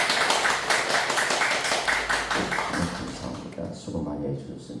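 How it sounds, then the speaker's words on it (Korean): Church congregation clapping in encouragement for a departing violinist, a dense wash of applause with voices mixed in, fading toward the end. "우리 상건이 형제를 위해서 격려의 박수와 축복을"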